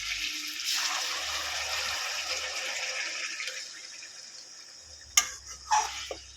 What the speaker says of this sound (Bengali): এবার এটা আমি গরম জল দিয়ে দেবো